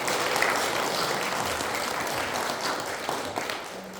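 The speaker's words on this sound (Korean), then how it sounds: "그리고 환영의 박수를 좀 해드리겠습니다" A church congregation at a Sunday worship service claps in welcome for visiting guests: a dense, steady wash of many hands that holds at an even level for the full few seconds, with no voices over it.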